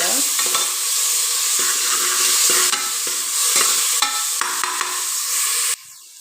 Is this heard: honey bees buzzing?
no